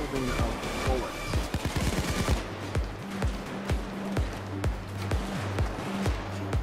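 Rapid gunfire in a shooter video game, bursts of automatic shots followed by a steady rhythm of evenly spaced single shots, loud and close, with no talk over it.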